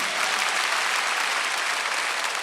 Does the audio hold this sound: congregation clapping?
yes